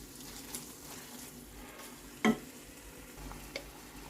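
Chana dal being stirred into a pan of simmering ridge gourd curry: a soft continuous sizzle with a few scraping spoon strokes, one sharper clink near the middle, no talk.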